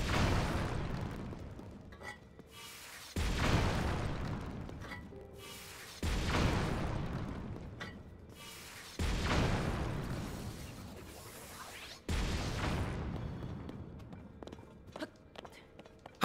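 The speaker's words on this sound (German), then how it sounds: "verwendet ein Schild mit einer Kanone und sprengt die ganzen Felsen" In Zelda: Tears of the Kingdom, a shield fitted with a cannon blasts rocks out of the way, producing four loud booming explosions about three seconds apart, each decaying into a rumbling tail.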